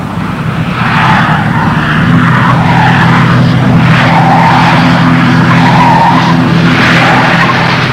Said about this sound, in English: The Falcon is now traveling at over 90 kilometers per hour.